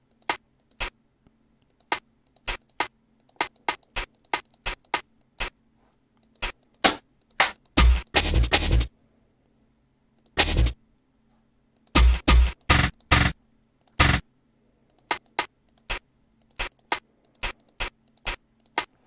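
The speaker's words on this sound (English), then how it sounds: "I like to start with my hi-hats just to do my little rolls." Crisp hi-hat hits in an electronic jungle-style beat programmed in Dub Turbo, scattered single ticks around quick dense rolls and bursts, loud and dry with no other instruments or voices.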